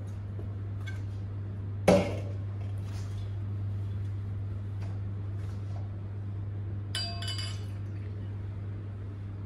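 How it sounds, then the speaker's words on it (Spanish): A glass wine decanter is rinsed with a splash of red wine, giving a sharp clink near the start and a faint rattle of glass later over a low steady hum, with no talk. "vamos a envinar un poquito el decantador"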